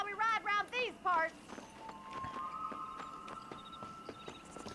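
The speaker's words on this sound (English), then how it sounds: "agora a gente vai tirar uma corrida de cavalo aqui." Horse hooves clop in a quick, regular rhythm in the Red Dead Redemption video game as a horse race begins, following a short burst of close speech, over a faint sustained tone.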